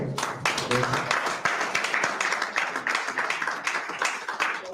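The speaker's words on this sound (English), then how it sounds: "Can we please give them a round of applause?" Applause from an audience after an agreement signing ceremony in Monrovia, a dense sustained wash of many hands clapping close by, with some voices mixed in.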